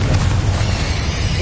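A Confringo blasting spell goes off in Hogwarts Legacy on PS5, a loud, sustained booming blast with heavy low rumble filling the whole moment, no voices over it.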